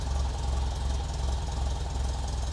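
A rebuilt Alfa Romeo 2.0L Twin Cam engine idles low and steady at about 630–650 rpm, a close, even throbbing pulse with a faint knocking character throughout.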